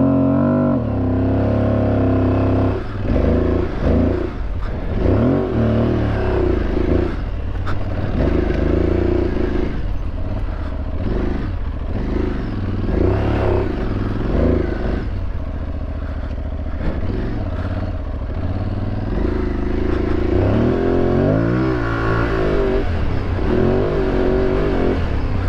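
Aprilia Tuareg 660 motorcycle engine revving hard off-road in second gear, loud and continuous with rising and falling throttle surges throughout.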